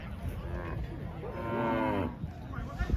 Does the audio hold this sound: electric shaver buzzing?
no